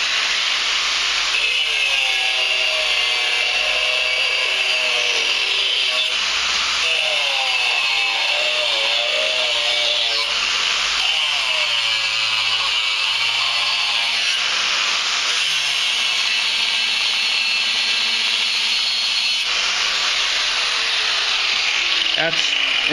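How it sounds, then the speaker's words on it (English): A Makita angle grinder cuts steel with a zirconium cutting disc, making a loud, sustained high-pitched whine that stays constant throughout and rises and falls in pitch as the cut progresses. "It's going to get noisy. Grinders are Makita."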